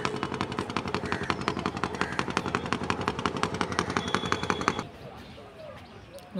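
An engine-driven river boat on the Saraswati River in early morning thumps with a fast, steady putt-putt rhythm, fairly loud and near, then cuts out abruptly, leaving quieter outdoor ambience.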